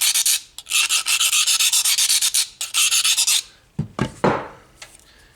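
A knife edge is honed on a Lansky diamond stone in 280 and 600 grit. Loud, close, rapid rhythmic scraping strokes come in two quick runs, followed by a few slower, separate rasping passes.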